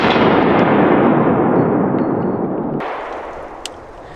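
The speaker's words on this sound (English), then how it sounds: "Let's do 3 rounds." A P320 M17 metal-frame pistol fires outdoors at steel targets: one loud, close blast with a long rolling echo that fades out, followed by a faint metallic ping.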